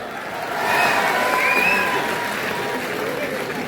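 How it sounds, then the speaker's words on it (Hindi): An audience at an all-India poetry gathering in Saifai breaks into applause and cheering, a broad crowd roar that swells and holds, with voices mixed in. "अच्छा था तो ताली बजाओ।"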